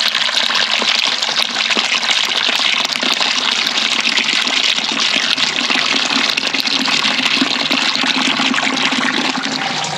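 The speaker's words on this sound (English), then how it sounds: "I'm gonna pour the stinky water in." Dirty greywater pours into a filter bucket in a steady, continuous gush for the whole stretch, a loud rushing splash with no pauses.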